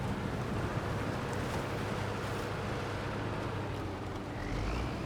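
Truck in SnowRunner ploughing through a mango swamp, giving a steady, loud broadband wash of water and engine rumble that holds constant throughout, with no talking.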